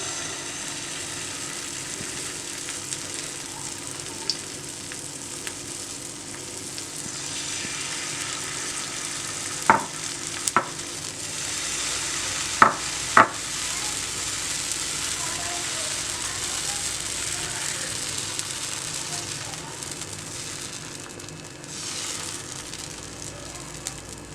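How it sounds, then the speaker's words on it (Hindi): Pancake batter spooned onto a hot tawa sizzles with a steady, close hiss, broken by a few sharp clicks midway. "और अब आपने एक बड़ा चम्मच लेना है और एक चम्मच भर के बीच में तवे पे डाल देना है।"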